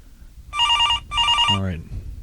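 Telephone ringing on an outgoing call: two bursts of an electronic ring with a short gap between them, followed by a brief voice.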